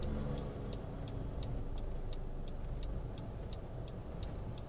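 A car creeping slowly on the clutch while parallel parking, a low quiet engine hum with soft periodic ticking clicks, likely the indicator, steady throughout and no speech.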